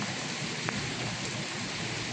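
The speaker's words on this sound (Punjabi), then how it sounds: "ਤੇ ਕਾਫੀ ਵਧੀਆ ਮੀਂਹ ਪੈ ਰਿਹਾ" Heavy monsoon rain in Punjab, India pours down in a dense, continuous hiss, steady and loud throughout with no voices, with water gushing from roof drainpipes.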